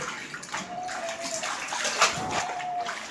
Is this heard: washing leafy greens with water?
yes